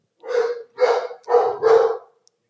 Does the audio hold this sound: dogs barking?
yes